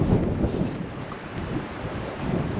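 Strong wind roars and buffets the microphone continuously at North Caribou Lake, Ontario, a heavy low rumble with no voices.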